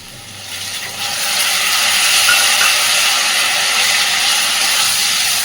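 Ginger-garlic paste hitting hot oil with fried potatoes and onions, a loud steady sizzle that swells after the first second and holds as a continuous bright hiss.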